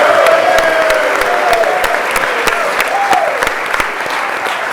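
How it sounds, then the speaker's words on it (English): Audience at a panel event breaks into a round of applause, dense steady clapping from a crowd throughout, loud and close, with no talking over it. "I need a round of applause for Nico, who had the toughest job today."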